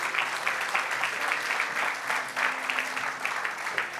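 Church congregation clapping in worship, a steady rhythmic applause that pulses evenly throughout, with a faint musical tone underneath.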